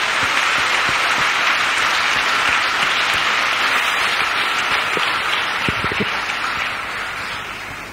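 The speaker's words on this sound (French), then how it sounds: "Acclamons pour Jésus-Christ." A church congregation applauds in a dense, sustained roar of clapping that fills the whole stretch and fades a little at the end. No speech rises above it.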